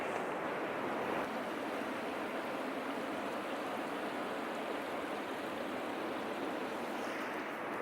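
Ocean surf at Hug Point on the Oregon coast, just past low tide on a clear morning, makes a steady, broad, unbroken roar with some wind and no voices.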